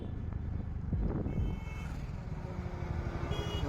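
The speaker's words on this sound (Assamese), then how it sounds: "ইমান গাড়ী আহি আছে আৰু এই ইয়াতে ট্রাফিক জামেই।" Many vehicles crawl past in a traffic jam, a low continuous engine and tyre rumble with a brief louder swell as one passes close, faint beeps near the end, and a quiet voice now and then.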